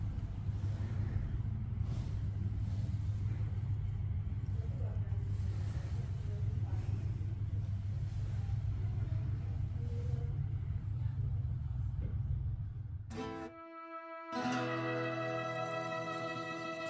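Inside a moving car, a low engine rumble drones steadily for most of the stretch, then dips and gives way to a different, brighter sound near the end.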